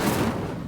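The Incendio fire spell cast in the video game Hogwarts Legacy, a short, loud whooshing burst of flame that fades quickly, heard alone.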